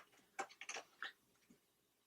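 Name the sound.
cat scratching a scratching post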